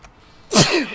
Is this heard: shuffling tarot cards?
no